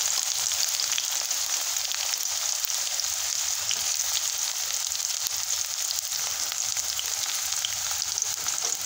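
Onion dropped into hot oil with mustard seeds and green chillies for upma, a dense, even hissing sizzle that stays loud and constant throughout, close by and without speech.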